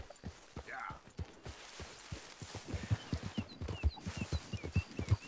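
Rhythmic horse hooves clopping steadily in Red Dead Redemption 2, with faint talking underneath.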